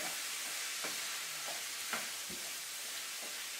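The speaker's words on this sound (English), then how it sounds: "And then I'm going to just give it a quick stir." Faint, steady sizzling from a pan of peppers, onions and mushrooms seasoned with salt and pepper, with a few soft scraping strokes of a utensil as it is stirred.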